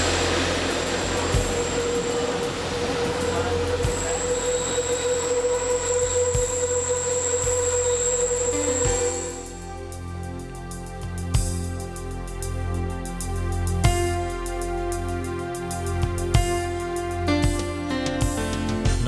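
The Bernina Express rolls along a Swiss mountain railway into the Poschiavo valley, its steady rumble and wheel noise changing partway through to sharp rhythmic clacks and metallic wheel squeal, close and continuous with no talk.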